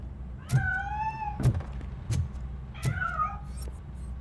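A cat meows several times in the RoboCop Rogue City video game, a few clear drawn-out calls with dull knocks between them, fairly close and alone with no talk.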